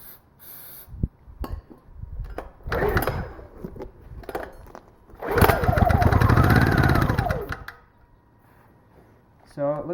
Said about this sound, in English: So it looks like we got a good running engine.